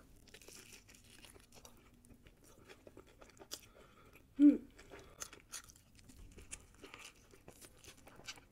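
Chewing on a big bite of sushi roll, soft wet mouth sounds and faint crunches close to the mic, quiet overall with one louder bite in the middle.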